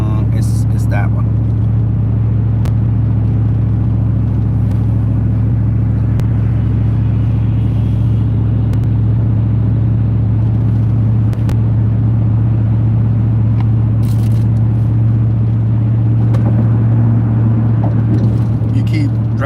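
A car drives through a junk yard with a constant loud low engine rumble and road drone. Occasional faint clicks and knocks sit over the steady hum throughout.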